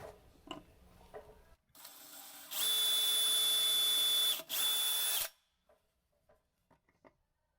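A power drill drills a pilot hole for cabinet door hinges at high speed for a few seconds, starting with a shorter burst, then a louder sustained run with a brief dip before stopping.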